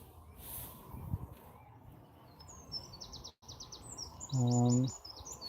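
Sea swallows call in an outdoor setting, with repeated high chirps and twittering phrases over steady background hiss, and a louder harmonic tone near the end.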